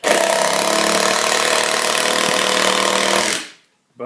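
A Craftsman lithium-ion impact driver drives a Phillips screw into wood with a loud, continuous rapid rattling that runs for over three seconds, then stops abruptly.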